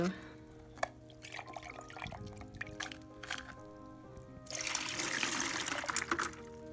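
Water runs and trickles into a rock tumbler barrel to rinse it out, starting with faint drips and then rising to a steady, splashing pour near the end, with a few knocks of handling along the way.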